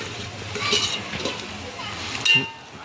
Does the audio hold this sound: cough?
no